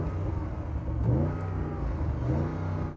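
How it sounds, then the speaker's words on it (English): An Audi V8 engine revs in two quick pulses over a steady idle rumble, loud and close, with no voices. "let's have a listen to the Audi."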